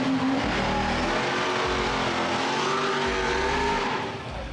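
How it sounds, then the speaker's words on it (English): A big-engined Dodge Charger at a car show roars steadily with a deep, throaty rumble, holding loud and close before easing off slightly at the end. "the Charger we just heard coming up now with that big engine in it"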